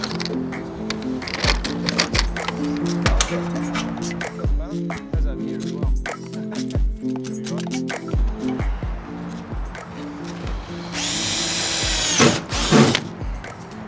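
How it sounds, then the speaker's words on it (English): A power drill bores pilot holes while a boat is being fixed up, with short whirring bursts separated by clicks and knocks of handling, then a longer, higher-pitched drilling run near the end. "So what Jason's doing now is just basically just putting in a couple of pilot holes"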